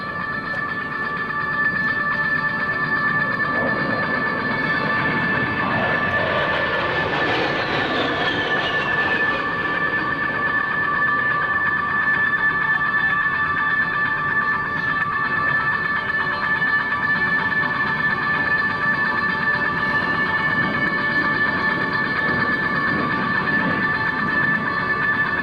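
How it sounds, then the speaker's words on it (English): An A-10 Thunderbolt II jet flies a level 360-degree high-G turn at an air show demonstration, with a loud, continuous engine roar and steady whine that swells and sweeps midway, and no voices. "now repositioning his aircraft to perform a level 360-degree high G turn"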